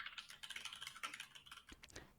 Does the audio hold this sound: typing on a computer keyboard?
yes